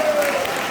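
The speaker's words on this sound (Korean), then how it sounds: "이충곤 박사님 오셔서 박수!" A crowd welcomes Dr. Lee Chung-gon with a short burst of dense applause, steady and fairly loud throughout with a voice mixed in underneath.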